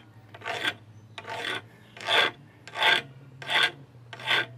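A hand file rasps across a pruning shears blade in six evenly spaced, close strokes, each a dry scraping burst separated by short pauses over a low background hum.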